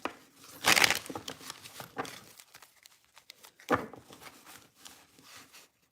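Tarot or oracle cards are shuffled by hand in two quick riffling bursts separated by softer sliding and tapping, close and fairly quiet with no talking.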